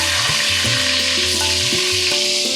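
Potato pieces coated in salt and turmeric fry in hot oil, a loud and continuous close sizzle with faint low tonal hums beneath it.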